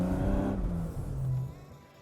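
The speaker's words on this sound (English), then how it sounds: "it makes a nice exhaust note and makes a couple bangs and pops too" A turbocharged BMW E30 revving hard, a loud rasping exhaust note that climbs and then drops away as it lifts off, heard close and without speech.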